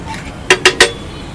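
Green chilli chutney is mixed into a dish with a metal spoon, giving three quick, close clinks against the pot in a short burst over quiet background.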